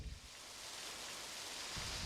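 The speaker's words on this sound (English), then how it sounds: "That's rain." A steady hiss of rain, broad and even, swelling slightly over a couple of seconds with a low rumble at the edges.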